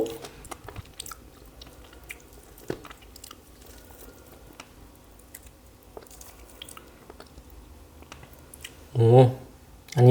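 Crispy roast pork skin from a whole roast pig being chewed close up after a dip in sweet soy sauce, with soft wet bites and a louder crunchy burst near the end.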